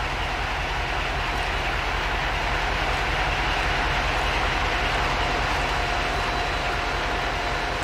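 A locomotive runs steadily in the video game Chernobylite, a continuous loud rumbling drone with a faint tonal hum and no clear clickety-clack, filling the whole stretch without pause.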